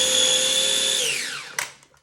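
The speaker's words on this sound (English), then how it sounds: "I love this little mini food processor" A small mini food processor whirs with a steady motor whine that spins down after about a second, followed by a brief clunk, with no talking.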